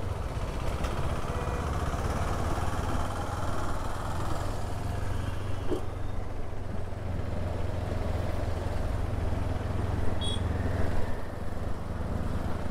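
A Honda NX500 motorcycle rolls along at low speed, its engine giving a steady low rumble with constant wind and road noise and no talking.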